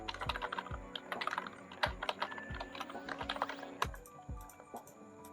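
Rapid typing on a computer keyboard, close and clear, with irregular clusters of key clicks and heavier thumps of the space or enter key.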